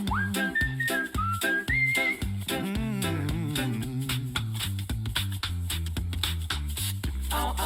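Bright melodic whistling over a steady musical backing with beat and bass, the whistled tune rising and falling in short phrases.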